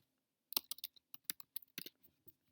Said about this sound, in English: in the search bar, we are going to type in AEA online